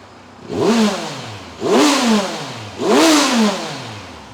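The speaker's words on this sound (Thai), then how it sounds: "เรามาฟังเสียงเบิ้ลรถกันนะครับ" A 2018 Kawasaki Versys 1000 motorcycle engine revved three times in a row, each a sharp rising blip that falls back to a low idle, loud and close with no talk.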